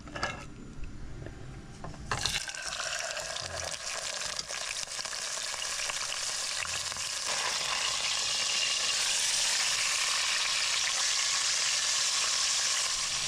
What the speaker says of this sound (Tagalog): Prituhin lang po natin ng konti yung tilapia.